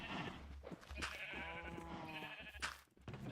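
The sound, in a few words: sheep bleating in Minecraft video game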